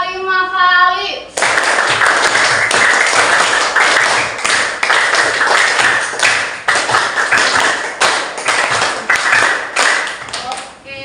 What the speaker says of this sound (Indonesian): Tepuk satu, tepuk dua, tepuk tiga, tepuk empat, tepuk lima kali.